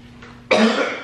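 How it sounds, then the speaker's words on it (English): A single close, loud cough bursts out abruptly and trails off, with no talking around it. "I don't mean to cough in your face"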